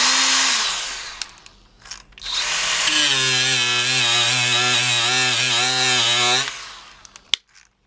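A DeWalt DCG426 cordless die grinder fitted with a wire brush, running on a partly charged 5 amp hour battery, spins up with a steady high whine for a few seconds, preceded by brief bursts and ending in a sharp click.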